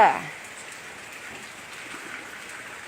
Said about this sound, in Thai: ตกคักคักคือฝนตกเด้อ